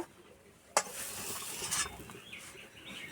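Spatula stirring and mashing a potato filling for Bengali aloo patties in a pan, giving soft scraping and squishing strokes, with one sharp tap of the utensil near the start, close and fairly quiet.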